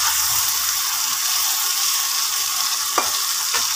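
Tiny kachki fish dry-fry in a pan with onion stalks, garlic and black cumin, giving an even, close sizzle with a couple of brief clinks near the end and no speech.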